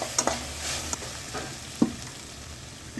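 Tomatoes sautéing with onion and ginger-garlic paste for a chicken kulambu, a soft steady sizzle under a few light scrapes and taps of a spoon against the pan, with no talk.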